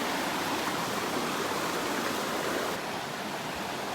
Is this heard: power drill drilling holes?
no